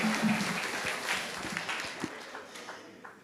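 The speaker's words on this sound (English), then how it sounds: "A round of applause for the baby who brought the daddy out." A round of applause at a talk on African and Jamaican music and creolized Black culture, moderate mixed clapping from an audience with some voices and murmurs over it.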